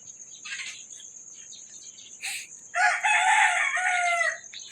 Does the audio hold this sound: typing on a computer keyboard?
no